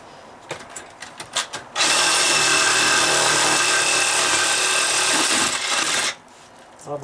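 A Sawzall reciprocating saw bites into rotted deck wood, a loud, steady buzzing cut lasting about four seconds, preceded and followed by quieter knocks and handling noise.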